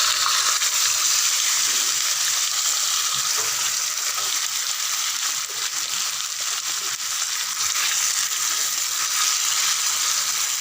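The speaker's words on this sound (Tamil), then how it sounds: "நல்லா ஒரு 5 நிமிஷம் இந்த மசாலா வந்து எண்ணெயில் நல்லா வதங்கட்டும்" Marinated chicken and masala frying in oil in a pot for biryani, giving a steady loud hiss and sizzle throughout with faint stirring scrapes.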